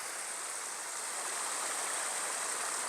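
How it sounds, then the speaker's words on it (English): Creek water flows down from a mill at Berry College in Rome, Georgia, making a steady, close, hissing rush with no pauses or voices. "Here's where the water comes from the mill, comes down the creek."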